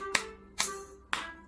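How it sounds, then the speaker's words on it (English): Three single hand claps, evenly spaced about half a second apart, sharp and fairly close against a quiet background with a faint steady tone underneath. "I can clap my hands"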